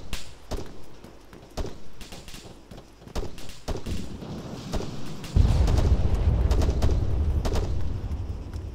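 Scattered gunshots crack across an Arma 3 battlefield, several spaced reports at varying distance, and then a heavy, sustained low roar that rolls on to the end.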